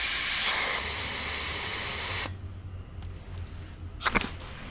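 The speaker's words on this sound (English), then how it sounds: "We'll now let some air out of this tire." Air hisses loudly and steadily out of a Chevrolet Malibu tire valve for about two seconds, then stops abruptly, leaving quiet surroundings with a few faint clicks and handling noises.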